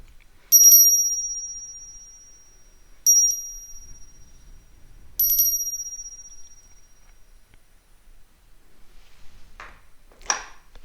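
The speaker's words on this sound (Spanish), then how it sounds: "permite que el sonido de esta campana limpie tu energía" A small bell struck three times in slow succession, each ring clear and sustained with a long fading tone, in a quiet space, followed by faint brushing noises.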